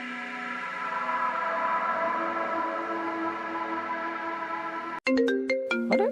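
Phone ringing with an incoming call, a melodic electronic ringtone that starts abruptly after a sustained droning tone and plays in bright, repeating note patterns, close and loud.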